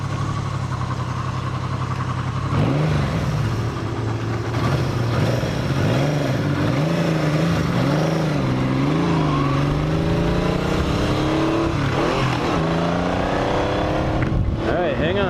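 A 1980 Yamaha XS850 Special motorcycle engine pulls through the gears while riding, rising in pitch with each surge, dropping at shifts, then climbing toward 6,000 rpm on a quarter throttle, loud and close over steady wind noise.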